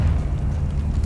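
A Confringo fire spell blast in Hogwarts Legacy, a short, heavy rumbling burst of fiery energy that booms loudly and close for about a second.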